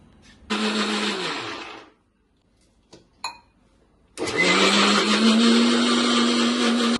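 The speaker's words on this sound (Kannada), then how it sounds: "ಇದಿಷ್ಟು ಮಿಕ್ಸಿ ಜಾರ್ಗೆ ಹಾಕಿ" A mixer grinder blends onion, garlic, coconut and spices in two loud bursts, each a steady high whirring roar, separated by a short pause with a few faint clicks.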